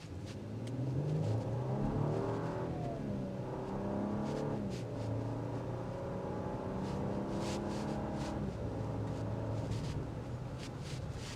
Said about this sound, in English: give her full gas, let's rock and roll.